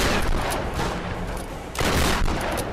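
Shotguns go off in a Tomb Raider game: loud, sharp blasts in quick succession, followed by a brief lull and then another heavy burst.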